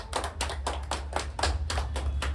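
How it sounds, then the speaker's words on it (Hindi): An audience claps for Sadanand Baba at an ashram gathering, a steady rhythmic burst of many hands beating together in even pulses over a low background hum, close and sustained throughout. "उनको लिए जोरदार ताली आप लोग बजा दीजिए भाई"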